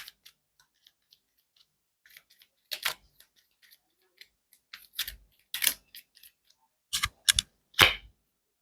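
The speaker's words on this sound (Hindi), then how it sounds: "वन लास्ट शफल, कार्ड्स निकाल दूं" Tarot cards being shuffled and drawn, giving soft scattered flicks and then several sharper riffling snaps and slaps close by, with quiet gaps between them.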